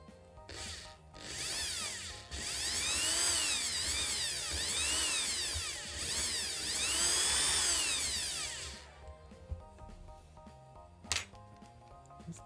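A power drill whines through a long continuous run of about seven seconds with wavering pitch as it bores into material, fairly close, then stops and leaves a quiet stretch with a few small clicks and knocks.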